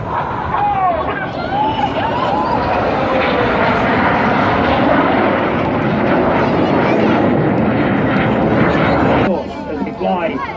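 Red Arrows synchro pair jets roaring overhead during an opposition barrel roll at a seaside airshow, a loud sustained rushing jet noise with crowd chatter and a commentator's voice underneath.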